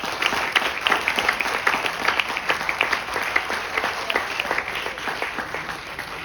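An audience at a guest lecture Innovation Day celebration gives a sustained round of applause, a dense, even patter of many hands clapping at moderate volume throughout.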